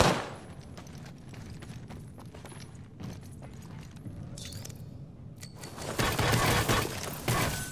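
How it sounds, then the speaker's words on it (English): Gunfire in the battle royale game Apex Legends: scattered shots crackle near and far throughout, with a louder, denser burst of fire near the end. "I am taking fire"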